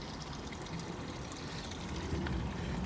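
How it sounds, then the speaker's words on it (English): Small mini creek on a hiking trail, water trickling and burbling continuously at close range, steady and fairly loud with no voices. "It's a little bitty mini creek."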